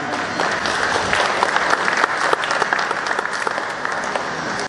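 Dense, steady applause from an audience at a Kalasin polytechnic college graduation farewell ceremony in Thailand, many hands clapping continuously and evenly throughout.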